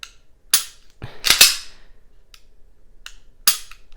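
Sharp mechanical clicks of a pistol trigger being pulled and reset, five or so crisp isolated snaps spaced unevenly, close and fairly loud against near silence.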